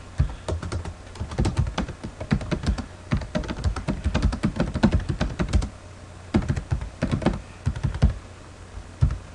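Someone types on a computer keyboard while entering a customer quote, producing steady, close, clattering bursts of keystrokes with brief pauses between runs.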